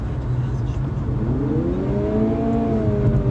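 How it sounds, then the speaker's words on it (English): 2019 Lexus UX 200 F Sport under full throttle, engine note rising smoothly and holding high as with a CVT, heard from inside the cabin over road and wheel noise. "But let's just hit that throttle."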